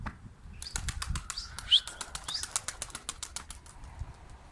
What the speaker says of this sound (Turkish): Gerçekten çok güçlü kanat sesleri var ya